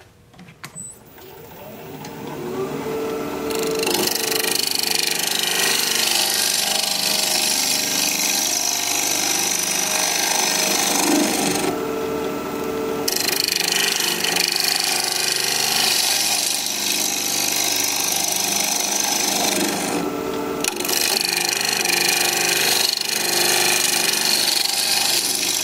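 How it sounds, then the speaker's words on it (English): A carbide tool cuts into a rhododendron root bowl spinning on a wood lathe, a loud, rough, chattering scrape that goes on continuously and breaks off briefly a couple of times. "Let me get the carbide tool and we'll get at it again."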